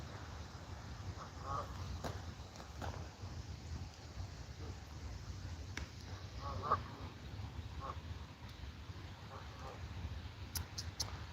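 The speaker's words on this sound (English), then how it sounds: "Geese." Geese honking outdoors during a fishing outing, several short calls spread through a quiet windy scene, fairly distant and faint against a low rumble.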